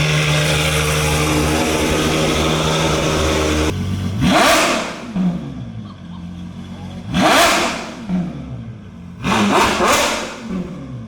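A 2026 Lamborghini Temerario hybrid supercar engine revs hard in three sharp bursts after a steady drone, each climbing fast and falling away, close and loud with people talking nearby.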